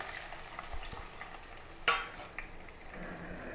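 Crushed onion, ginger, garlic and chopped green chilies fry softly in hot oil with a faint, steady sizzle, broken by one sharp spatula scrape against the pan and a few lighter stirring knocks.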